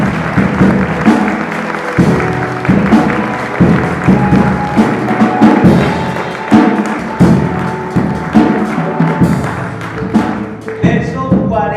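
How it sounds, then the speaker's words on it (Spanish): Church congregation clapping during a Spanish-language worship service, a loud, steady crowd of hands in rhythmic, almost unison claps that carry on for several seconds. "Denle un fuerte aplauso a Jesús."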